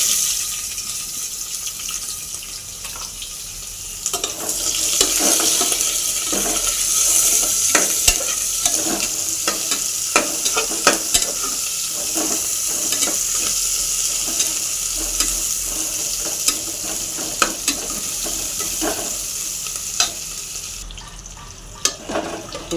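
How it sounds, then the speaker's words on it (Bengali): Chopped onions fried with whole cumin in a pan, a steady sizzle with repeated scrape-and-clatter stirring strokes, close and alone with no talk. "পেঁয়াজটা ভালো করে রোস্ট হয়ে যাচ্ছে।"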